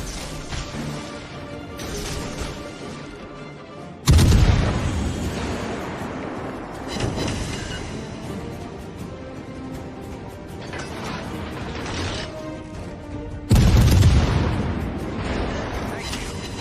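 Loud booming explosions as an enemy cruiser is destroyed in a World of Warships Legends ranked battle: two heavy blasts with rumbling tails over continuous dense battle noise.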